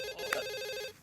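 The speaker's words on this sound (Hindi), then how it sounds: "Oh, phone." A telephone rings once with a steady, bright electronic warble lasting about a second, close and clear with no talk over it.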